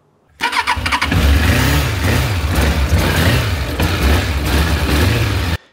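A 1999 Suzuki GSX-F 750 Katana motorcycle, unstarted for four or five years, cranks and fires up, then settles into a loud, steady, close idle with a pulsing low rumble and a few revs.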